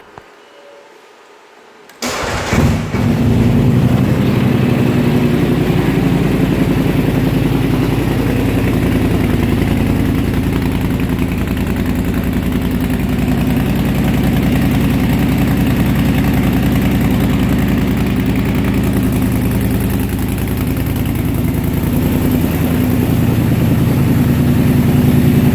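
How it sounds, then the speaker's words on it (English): A Can-Am Outlander Highlifter 1000 ATV starts up and idles loudly inside a closed garage, its aftermarket exhaust rumbling steadily and close for over twenty seconds after a brief quiet start. "I'll crank it up, let y'all hear that exhaust."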